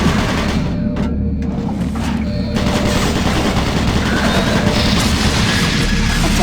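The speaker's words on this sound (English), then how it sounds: "Warning. Automated turret guns online." Automated turret guns in Doom 3 fire a continuous, loud, dense barrage, the sustained mechanical rattle blending into a roaring wash of noise throughout.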